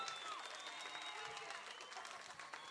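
Concert audience at a tribute show applauds in a dense, steady wash of clapping and cheering, heard moderately loud with a voice speaking over it.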